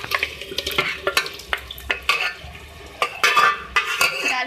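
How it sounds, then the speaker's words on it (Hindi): Cooked beef stirred into a karahi for handi beef karahi makes repeated scraping and clanking of a spoon against the metal pot, uneven in rhythm, with a soft sizzle underneath. "डाल के इसको मिक्स करूँगी।"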